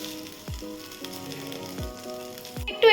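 Washed, drained rice hitting hot oily gravy in a pan gives a steady close sizzle and frying crackle, with a few sharp clinks of a spoon against the pot and no talking.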